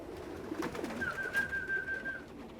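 Racing pigeons at a loft in Bradford coming down to land, with a thin sustained whistle-like tone over a soft murmuring background of birds, moderately close and fairly quiet.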